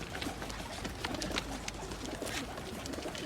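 Pigeons kept by a breeder coo softly and repeatedly among other faint bird calls. The sound is fairly quiet, with a low background hum.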